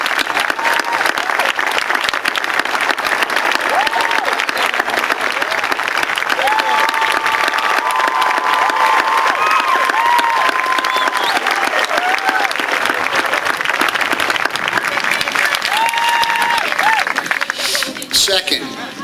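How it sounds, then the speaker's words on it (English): A graduation audience for the class of 2015 applauds in steady, dense, sustained clapping that fills the room for about eighteen seconds, with a faint crowd murmur underneath and a sound then tapering off near the end. "receive a well-deserved round of applause"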